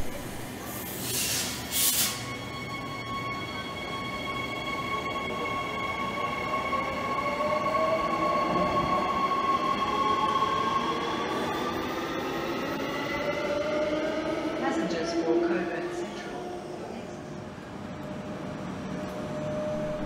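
A Perth B series electric train runs on the Midland to Fremantle route, heard from the driver's cab. It gives a steady rolling rumble with rising and falling motor whine and occasional squeals from the wheels.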